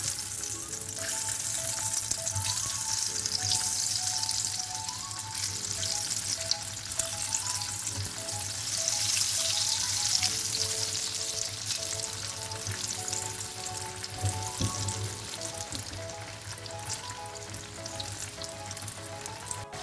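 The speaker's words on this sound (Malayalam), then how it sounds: "നമുക്കിനി ഇത് ഓരോന്നും ഇട്ട് ഫ്രൈ ചെയ്തെടുക്കാം." Yam and egg pieces deep frying in hot oil as a dense, even, crackling sizzle with occasional light stirring, loud and steady throughout.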